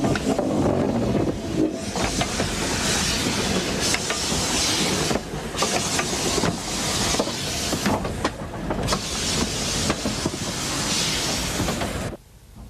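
Steam locomotive 6201 Princess Elizabeth departs for Shrewsbury with its train, giving a loud, continuous roar of exhaust and hiss broken by rhythmic chuffs and rail clatter, fading abruptly near the end.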